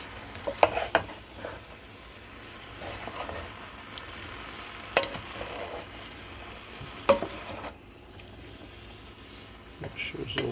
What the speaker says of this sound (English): Just mixing the onion and the seasonings.